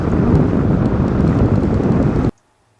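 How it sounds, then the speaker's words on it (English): Strong wind buffets a microphone outdoors on a cruising boat off Mexico, a loud steady broadband roar lasting over two seconds before cutting off abruptly to near silence. "that's the wind out here today"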